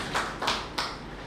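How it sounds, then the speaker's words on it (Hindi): A few claps from an audience at a spiritual yatra gathering in Hisar, Haryana, three distinct sharp claps spaced evenly, close and moderately loud. "इसके लिए ताली बजाइए"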